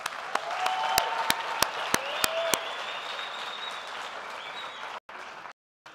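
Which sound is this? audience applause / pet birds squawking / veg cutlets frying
audience applause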